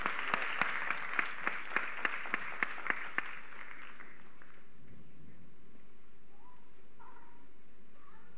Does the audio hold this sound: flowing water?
no